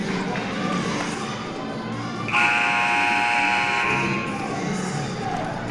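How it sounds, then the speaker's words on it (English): A loud, flat electronic basketball game-end buzzer blares for nearly two seconds amid arena crowd noise and talking. "after that final buzzer sounds"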